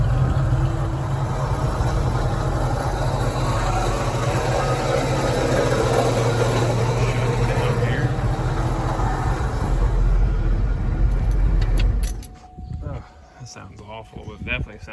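A rough, steady idle from a 1975 350 V8 in a 1968 Pontiac Firebird rumbles loudly and continuously, then cuts off abruptly near the end, leaving quieter clicks and faint noise.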